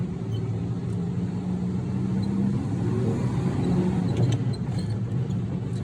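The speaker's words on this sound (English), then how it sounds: "You can hear it all clanking and clanking" A Lamborghini LM002 from the 1980s, low geared with a dogleg first, drives along with a steady engine drone and low rumbling drivetrain noise, loud and continuous inside the cabin.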